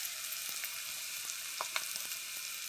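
Bitter gourd sabzi sizzles steadily in a hot pan as homemade masala goes in, a soft continuous frying hiss with a few faint clicks and stirring taps, no voices.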